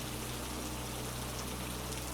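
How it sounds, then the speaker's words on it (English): Rain falling and tapping on windows and a roof, a dense steady hiss of drops with a constant low hum beneath, unbroken and even. "The rain returned as a whisper, then a steady rhythm, tapping against the windows and roof"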